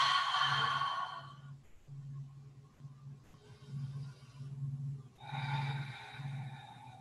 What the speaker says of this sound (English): Loud exhale.